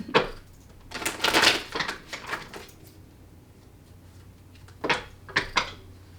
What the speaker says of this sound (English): Let's do a take two on this shuffle.